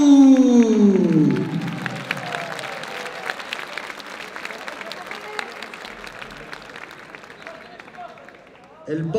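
A kickboxing event crowd claps for a fighter's introduction, sustained dense applause fading gradually, following an announcer's voice at the start and before another line of speech at the end.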